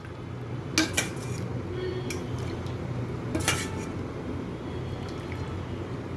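Chicken soup with garlic, ginger, carrot, capsicum, onion and chicken bones is ladled from a pot, with a few sharp metallic clinks of ladle against pot over a low continuous simmer-like rumble.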